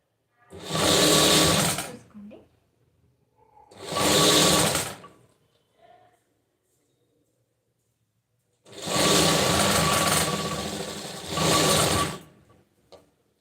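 Electric sewing machine stitching a size-36 blouse whirs in several close, steady bursts of one to three seconds each, separated by quiet pauses.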